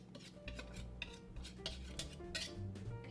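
Banana bread batter with ginger being stirred in a bowl, a run of soft close scraping and clinking of a utensil against the bowl in uneven strokes.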